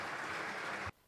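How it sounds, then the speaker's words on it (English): An audience at an agricultural congress auditorium applauds, a steady burst of many hands clapping that cuts off abruptly after about a second. "Let's give him a round of applause."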